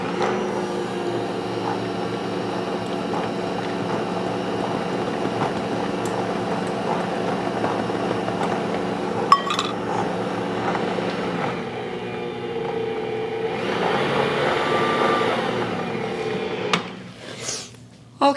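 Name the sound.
mixer mixing pecans into pound cake batter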